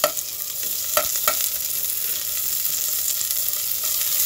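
Chopped onion sautéing in a hot pan for a fish tinola, a steady close sizzle with a few sharp stirring clicks near the start.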